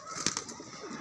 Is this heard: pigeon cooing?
yes